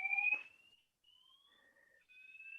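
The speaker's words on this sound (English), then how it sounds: "I think it's a false positive fire alarm." A fire alarm sounds in a lecture room, thin electronic tones that sweep and hold in faint, uneven beeps, somewhat distant and alone.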